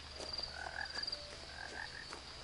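Several frogs ribbit and croak in a game world, short repeated calls spread across the moment at moderate distance, layered over a soft steady ambience and a thin high whine, no voices.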